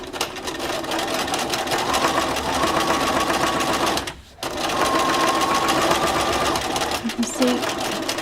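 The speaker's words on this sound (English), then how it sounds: "So I'm just going to stitch along here." A domestic sewing machine hums and clatters steadily while stitching a double-turned fabric hem, running continuously with one brief pause midway before resuming at the same even pace.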